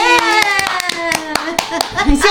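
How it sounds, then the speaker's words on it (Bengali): Hands clap in a quick, even rhythm right after a birthday song is sung for a girl named Aradhana. The sharp claps stay close and clear while voices carry on alongside. "হাততালি।"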